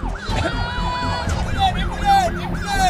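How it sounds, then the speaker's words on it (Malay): An ambulance siren wails in a loud, steady repeating up-and-down cycle, close and continuous, in a highway emergency-lane scene from a PLUS advertisement. "Hafiz, Misha, ambulans terhalang di lorong kecemasan."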